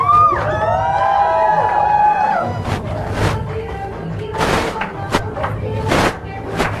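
A crowd at a celebrity interview held at an office cheers and whoops loudly, with scattered claps and thumps, swelling in bursts over several seconds while voices call out among them.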